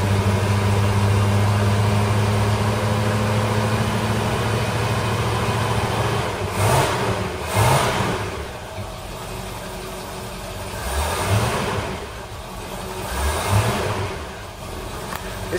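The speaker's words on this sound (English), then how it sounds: "And now it's misfiring again." A V8 engine idles with a steady low rumble, then misfires in several uneven stumbles and bursts between about 6.5 and 14 seconds, heard close up and alone, with no voices.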